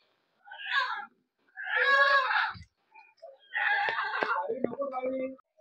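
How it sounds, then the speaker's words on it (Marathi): Chickens roam a Konkan village yard, with several separate bursts of clucking and squawking, one drawn-out and crow-like, mid-distance against an otherwise quiet background. "इथं कोंबड्या फिरतायत मस्तपैकी"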